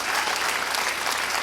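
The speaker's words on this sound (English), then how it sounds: "can I have a massive round of applause for Jackie Clarke over here" Applause from a live theatre show audience, a steady dense wash of many hands clapping with no gaps, heard close and fairly loud throughout.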